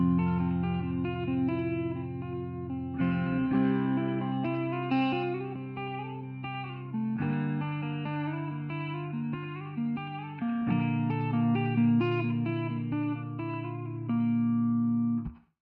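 Strummed guitar chords worked down the neck from the twelfth to the seventh position and back up, played through effects; sustained, layered chords ring steadily with shifts roughly every few seconds, close and loud, with no talking.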